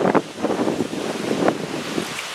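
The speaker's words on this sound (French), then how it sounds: "Ouais, il y a du vent." Gusty wind buffeting outdoors with rushing noise and soft bursts against the microphone, fairly close and continuous.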